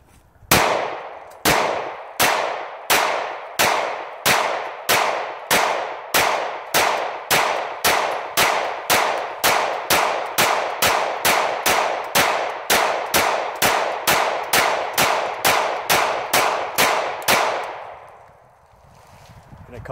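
Ruger SR9 full-size pistol emptying a 32-round extended magazine, about thirty loud, sharp shots in a fast, even string lasting nearly eighteen seconds, then stopping.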